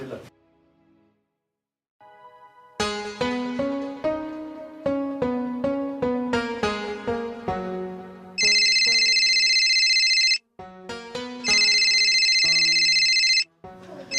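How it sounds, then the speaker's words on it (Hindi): A melodic mobile ringtone plays loudly, with bright tonal bursts and sustained beeping tones, after a brief quiet start. "बिटिया का फोन।"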